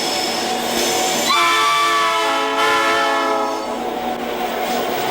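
A train at the railway station in San Mateo sounds a long, loud horn blast over steady rail rumble, and the horn fades out before the end while the engine noise continues.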